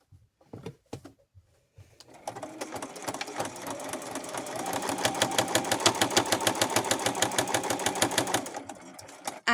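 Sewing machine stitching around the edge of a cloth menstrual pad: a few short stops and starts, then a steady, fast, rhythmic needle run close by, ending with a brief pause.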